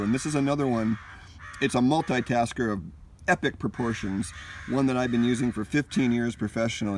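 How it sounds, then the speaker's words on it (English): Crows caw repeatedly in the background outdoors, their harsh calls sitting under a man's continuous close-up speech. "if you can hear the crows in the background, they seem to agree with me. They're really going at it."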